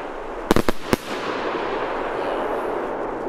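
High-bursting consumer firework shell with golden, long-falling glitter, a few sharp cracks and pops near the start followed by a broad crackling hiss fading out in open air.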